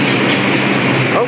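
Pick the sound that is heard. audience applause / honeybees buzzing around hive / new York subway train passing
new York subway train passing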